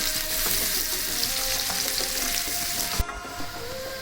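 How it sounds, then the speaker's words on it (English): Onion frying in a pan to a deep golden brown for a prawn and eggplant fry gives a continuous close sizzle with light stirring scrapes, then a sharp knock and a quieter hiss; no talking. "The onion is nicely fried now."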